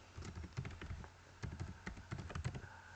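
Computer keyboard typed on in quick bursts, soft close clicks clustering into short runs with brief pauses, quiet and without any talking.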